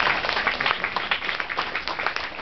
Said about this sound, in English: You owe yourselves a round of applause.